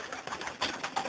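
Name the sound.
pigeon hen cooing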